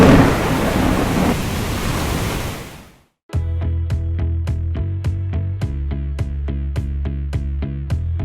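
Thunderstorm with heavy rain: a loud, dense wash of rain and rumble close by that fades out after about three seconds, then gives way to steady rhythmic music.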